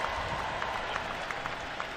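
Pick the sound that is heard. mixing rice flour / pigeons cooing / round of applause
round of applause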